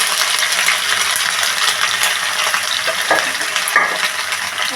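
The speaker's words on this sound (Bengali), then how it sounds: "এগুলো দিয়ে আমি ভালোভাবে নেড়ে নেব।" Chilli, ginger paste, garlic paste, onion paste and cumin powder being stirred in a frying pan for chicken biryani, a close, steady sizzle with scraping and a couple of light metallic clinks.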